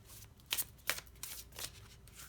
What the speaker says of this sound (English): you might not be able to see the shuffling off camera